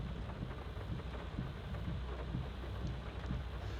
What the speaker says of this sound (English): it's raining here on Hinterland